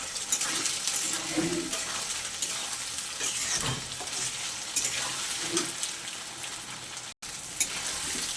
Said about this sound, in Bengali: আদা রসুন বাটা আলুর সঙ্গে একটু ভালো করে ভেজে নেব যাতে গন্ধটা না থাকে।